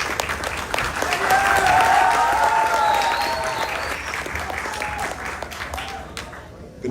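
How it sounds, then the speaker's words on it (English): A crowd at a children's carnival band launch applauds for several seconds, dense and steady, with voices and cheers mixed into the clapping before it fades out. "Give him a round of applause, please."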